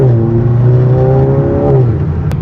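A car with a Unitronic Stage 2 tune pulls away at night, its engine droning loud and close with a rising then falling pitch as it accelerates through the gear.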